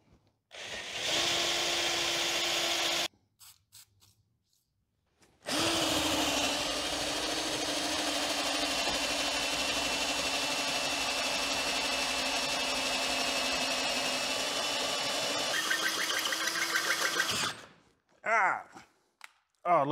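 Power drill boring into metal held in a vise, with the bit running into the vise: two sustained whining drill runs, the first short and the second long, separated by a pause, with brief clatter at the end.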